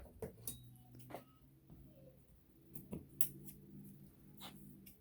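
Scissors snip through a paper file folder for a handmade junk journal, a few short crisp cuts spaced out over a quiet indoor background.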